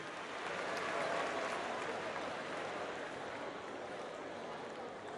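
Audience applause at a concert tribute in Abidjan, a broad sustained wash of clapping from a large crowd, steady and somewhat distant, with no talk over it.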